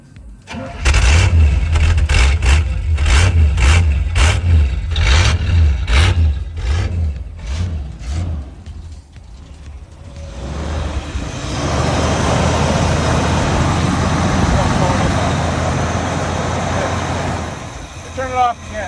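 A 34-year-old Chevrolet engine cranks with rapid, loud starter chugging, then catches and revs roughly, settling into a sustained, uneven running roar with brief voices in between.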